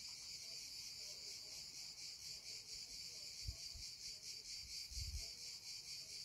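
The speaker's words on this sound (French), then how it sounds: "je vous laisse encore entendre les cigales" Steady, dense cicada chirring fills the scene with a pulsing high buzz, continuous and fairly loud, with a couple of low thumps in the background.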